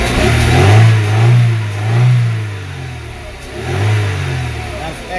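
A 1995 Mercedes Model 210 engine with an extremely rich running condition idles and revs repeatedly, rising and falling in several loud, close swells with a low rumbling tone, and a voice speaks briefly.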